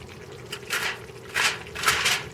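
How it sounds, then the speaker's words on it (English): Food cooking in an oven bubbles and sizzles in three soft bursts of popping, close and moderately loud over a steady hiss, with no talk. "I hear it bubbling."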